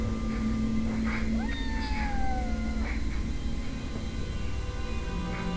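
A kitten meows several times over a steady background drone, with a high rising whine-like call partway through.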